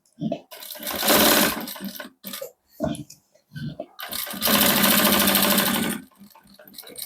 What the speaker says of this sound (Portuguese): Vamos costurar em volta todo, costurinha de segurança, bem na bordinha, só para prender esse forro aí no lugar.